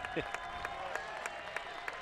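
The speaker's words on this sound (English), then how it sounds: "And now you hear the crowd. Seahawk faithful starting to come to life here." Crowd noise at a college baseball stadium during the CAA championship, a steady wash of cheering and applause with periodic sharp claps and shouts, fairly distant, under low broadcast chatter.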